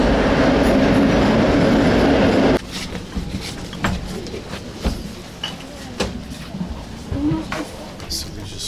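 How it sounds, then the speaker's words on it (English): A train at Warsaw Central station bound for Szczecin, with a loud steady rumble for the first few seconds, then a quieter station soundscape of clanks and rattles as the cars settle. "And that is our train right there."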